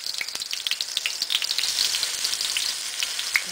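Veggie burger mixture frying in canola oil in a skillet, a close, bright, steady sizzle with rapid crackles and spits throughout and no talking.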